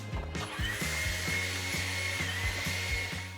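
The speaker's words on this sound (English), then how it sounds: "another great use for a leaf blower is? Cleaning out the back of your vehicle." A leaf blower whines steadily while cleaning out the back of a vehicle, with a rhythmic mechanical clicking pulsing through the close, constant motor noise.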